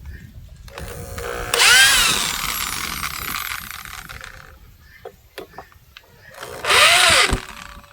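A power drill backs screws out of solid wood legs for a rustic table in two short, close, whirring bursts whose pitch rises as they spin up, with quiet handling clicks between them.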